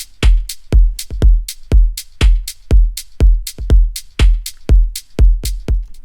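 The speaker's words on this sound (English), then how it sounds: "use the kick drum in a longer loop and a loop length of 3 bars" Electronic organic house drum loop built in Ableton, a punchy kick drum in a 3-bar pattern with crisp hi-hat ticks, steady and loud with no voices.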